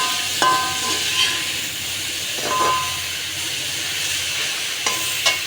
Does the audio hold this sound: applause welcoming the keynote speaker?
no